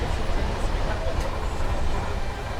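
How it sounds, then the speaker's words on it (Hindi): Vande Bharat Express train number 22477, New Delhi to Shri Mata Vaishno Devi Katra, approaches with a steady loud rumble and roar of rolling stock heard from aboard another train, without a break. "सामने से आने वाली है ट्रेन नंबर 22477 नई दिल्ली श्री माता वैष्णो देवी कटरा वंदे भारत एक्सप्रेस"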